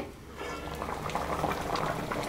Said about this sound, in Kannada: ತೆಂಗಿನ ತುರಿ ಹುಣಸೆ ರಸ ಹಾಕಿದ್ಮೇಲೆ ತಿರುಗಿ ಒಂದು ಕುದಿ ಬರಬೇಕು